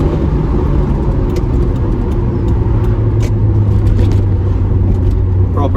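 Toyota MR2 MK1 engine pulling hard toward 5,000 RPM while driving, a steady loud mid-range drone with sustained rumble and slight misfiring hesitation, engine noise filling the cabin throughout.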